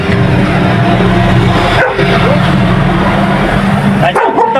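A dog barks from a house while a motorcycle or engine rumbles close by, the barking brief and partly masked by the loud, continuous engine noise and voices.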